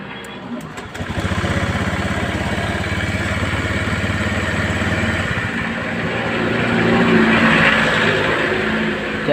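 Motorcycle engine idling during a battery voltage check in a school motorcycle workshop, a steady close low rumble that holds evenly for several seconds and swells slightly louder near the end.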